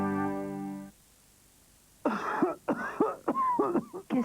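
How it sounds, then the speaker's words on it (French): A man coughs dryly several times in short separated bursts, close and clear, after a sustained musical chord fades into quiet, as in a French television advertisement for cough syrup. "Qu'est-ce que tu tousses?"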